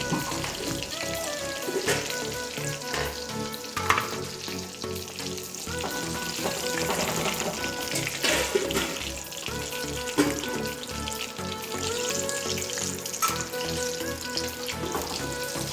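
Batches of chicken fry in hot oil for a chicken fry biryani, giving a loud, continuous crackling sizzle with scattered clinks and stirring sounds throughout. No one speaks.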